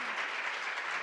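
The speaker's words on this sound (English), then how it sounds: "give her a round of applause" Brief, dense applause from an audience at a women's workforce event, a steady wash of clapping throughout.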